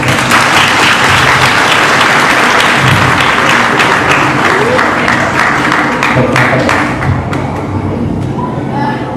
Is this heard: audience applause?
yes